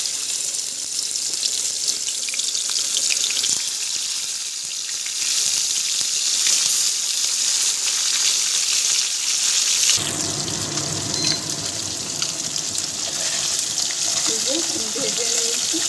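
Potatoes frying in hot oil in a heated wok for a Bengali hilsa fish and potato curry: a steady, close sizzling hiss that runs unbroken and brightens slightly in the last few seconds.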